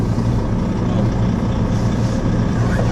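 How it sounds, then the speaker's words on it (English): A Volvo FH12 lorry loaded with Heston bales rumbles steadily with a deep, loud diesel drone that fills the whole stretch from inside or close by, with no pause and no talking. "right, just see if this lorry will move."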